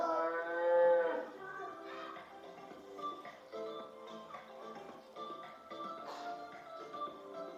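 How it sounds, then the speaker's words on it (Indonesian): A cow moos repeatedly while grazing on grass, with long, drawn-out lowing calls following one another over a quiet background. "sapi lagi makan rumput"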